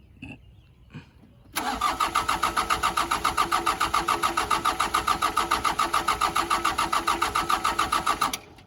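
An old excavator engine pulled from a junk pile gives two faint knocks, then rumbles into a loud, rhythmic chugging pulse that holds steady for about seven seconds before cutting off abruptly.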